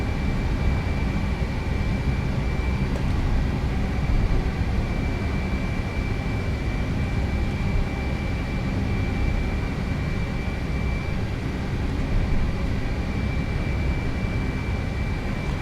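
Jet engines of a British Airways Lockheed TriStar whine steadily while taxiing at London Heathrow, a continuous droning roar with a high tonal hum, heard close from inside with no talk.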